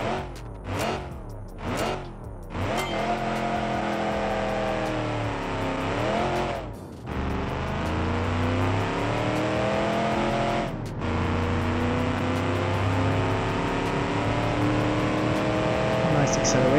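A 7.3-liter V8 car in the Automation game accelerates hard, its engine rising in pitch through repeated gear changes, loud and close, with brief revving bursts at the start and sustained engine roar throughout.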